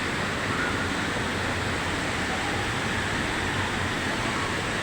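Steady, dense roar of Ditumabo Mother Falls in San Luis, Aurora, a continuous broadband rush of falling water that stays even and close throughout with no voices.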